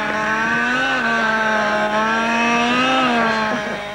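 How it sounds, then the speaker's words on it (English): A model aircraft, a homebuilt British Aerospace experimental design powered by an OS 25 engine with a pipe, flying at a 1989 jet rally at Wroughton. Its engine gives a loud, close, steady high-pitched buzz that holds throughout with slight pitch wavering. "Powered by an OS 25 engine."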